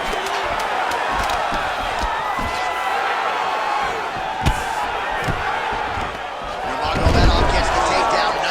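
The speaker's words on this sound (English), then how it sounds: "The crowd's going crazy because they appreciate high-level mixed martial arts" Arena crowd in the video game EA Sports UFC 5 roars and cheers during a mixed martial arts bout, a dense continuous din with a sharp thud and a louder swell near the end.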